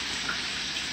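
Food frying for a church banquet makes a brief, even hiss of sizzling oil that stays steady and fairly close, with nothing else cutting through.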